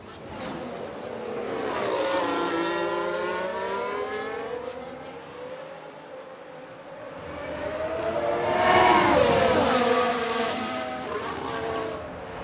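Formula 1 cars in a racing video game roar past during an overtake, engine whines rising and falling as two cars sweep by in turn, loud and without speech.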